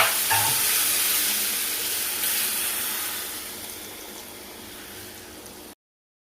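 Hot oil tempering (vaghar) for Gujarati-style okra kadhi sizzles steadily as Kashmiri red chili powder is stirred in, a close, bright frying hiss that gradually fades, with no talking.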